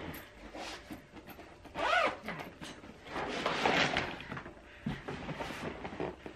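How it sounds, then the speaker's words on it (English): A zipper pulled along a suitcase compartment while packing for a holiday, several drawn-out rasping strokes close to the mic, with a louder pull near the start and another longer run in the middle. "It would help if I zip that compartment up."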